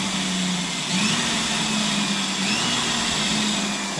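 A power drill whines continuously at a steady high pitch, its tone dipping slightly under load as it bores into hardwood, with no voices.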